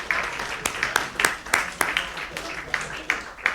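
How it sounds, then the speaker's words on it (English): Scattered applause at an awards ceremony: a modest number of distinct hand claps ring out in an uneven rhythm, fairly quiet and sparse. "I'd like to give a big round of applause."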